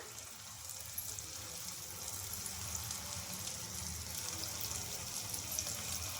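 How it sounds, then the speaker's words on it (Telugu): Potato aloo bites sizzle in hot oil, a steady, close, dense crackling hiss that holds evenly throughout without voices. "ఇప్పుడు మనం చేసి పెట్టుకున్న బౌల్స్ అయితే ఒక్కొక్కటి అయితే వేసేసుకోవాలి ఇలా నిదానంగా"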